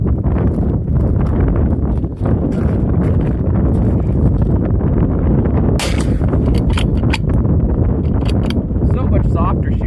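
Suppressed rifle shots with a Gunwerks 6IX suppressor fitted on a 6.8 Western rifle, sharp cracks over loud, constant outdoor wind noise.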